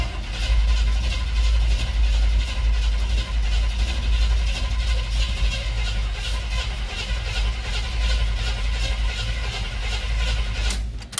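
A 1977 Chevy 350 V8 with a used cam and lifters, running on a stand after valve adjustment, cranks and sputters loudly and close, with a steady low rumble and rapid pulsing throughout and no talking.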